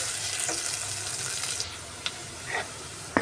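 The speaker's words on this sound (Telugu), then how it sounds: "రెండు మూడు నిమిషాలు ఫ్రై చేసుకున్నాము అలాగే రెండు మూడు నిమిషాలు బాగా వేగనిద్దామండి" Aloo pittu mixture of mashed potato fries in a pan with a steady, close sizzle and hiss, broken by a few soft scrapes and clinks of stirring.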